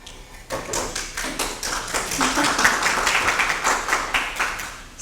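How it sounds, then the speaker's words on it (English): A room of people at a council on aging evening event clap for a presenter, with a dense run of quick, overlapping claps that begins after a brief pause and carries steadily close by until the end. "So unnecessary to clap, but thank you very much."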